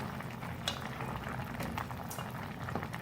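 Mutton cooks in a covered pot over a low flame, a steady, soft bubbling simmer with faint pops and gurgles, close up and quiet, with no talking.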